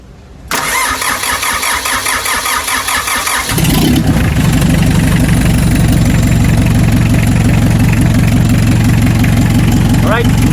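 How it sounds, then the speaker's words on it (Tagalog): A car engine cranks and fires up after a timing belt replacement, then settles into a steady, loud idle with a rhythmic mechanical pulse that carries on to the end. "So ngayon, start natin yung makina."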